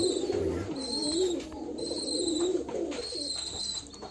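Domestic Giribaz pigeons at a pigeon farm give repeated close, throaty coos in rolling phrases, loud and continuous with faint higher chirps mixed in.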